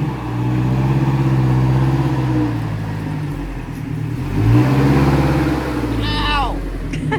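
A 1982 Toyota BJ60 diesel Land Cruiser idles low and revs up and back down twice, a deep loud engine drone close by, with a brief high squeal near the end.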